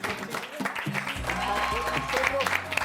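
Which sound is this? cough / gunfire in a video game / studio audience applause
studio audience applause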